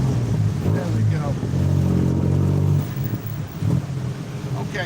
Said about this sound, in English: Sound like there's a V8 engine in there